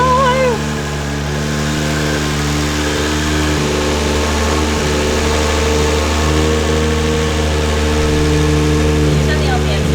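A Nissan Skyline with a 1JZ twin turbo engine runs loud and close, a steady rumbling idle with slight revs, while people talk over it.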